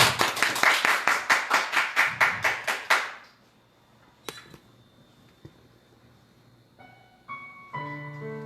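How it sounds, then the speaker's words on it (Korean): An audience at a live broadcast claps in a quick, even rhythm of about a dozen crisp claps that stop abruptly, followed by near silence and a few soft musical tones. "자, 박수 보내주세요"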